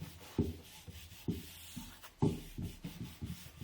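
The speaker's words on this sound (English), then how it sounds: "I gave the wood a light sanding first, just to prepare it for the oil." Rhythmic, soft rubbing strokes repeat about every half second, a close, quiet scratchy sound of light sanding on wood before oiling.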